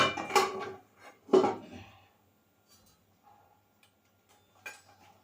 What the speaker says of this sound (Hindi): ये लोहे की कढ़ाई ले ली मैंने, और स्वादिष्ट बनेगा ये।